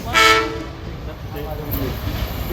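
A GE diesel locomotive in Indonesia sounds a loud horn blast near the start, then its engine rumbles steadily underneath for the rest of the moment.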